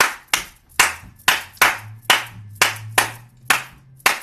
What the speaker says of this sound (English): I'll throw a little bit of the Gullah clap rhythm in it